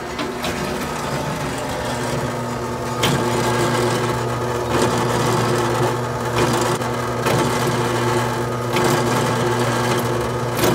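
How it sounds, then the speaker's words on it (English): Drill press running steadily while drilling holes into a plastic horse hoof clog, a constant motor whine with periodic bursts of grinding as the bit bites into the plastic. "The way I do that is with my drill press."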